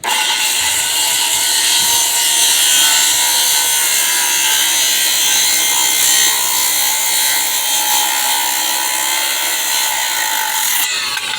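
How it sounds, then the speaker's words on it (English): A saw cuts through wooden stair treads for an outdoor pool deck, a loud continuous rasping whine that holds steady for several seconds before stopping abruptly at the end. "I'm gonna start cutting the treads here one by one."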